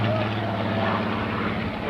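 A Fairey Firefly propeller aircraft flies at an RAF Halton airshow in 1986, its engine a loud, steady rumbling drone throughout with a broad roar.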